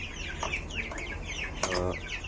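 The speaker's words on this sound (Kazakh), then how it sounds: "Светлый Брама балапандарымды алып келдім." A batch of thirteen Light Brahma chicks cheep close by: a dense, continuous chorus of high, quick downward peeps with no pauses.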